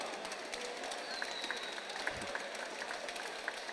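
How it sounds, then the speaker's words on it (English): Applause from a crowd at an MMA event after a knockout bout, steady broadband clapping that fills the whole stretch at a moderate, somewhat distant level. "Ladies and gentlemen, round of applause for both fighters."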